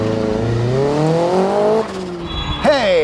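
A car with anti-lag launches off the line, its engine revving upward in a loud close roar, then a brief drop and a fresh surge as it shifts and pulls away.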